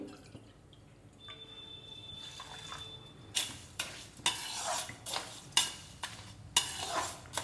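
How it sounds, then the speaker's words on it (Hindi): Water poured into a pan holding jaggery and sugar for a sweet syrup, heard as a run of splashing, stirring pulses after a quiet start, close and fairly loud with no talking. "अब इसमें आधी कटोरी मैं पानी डालूंगी"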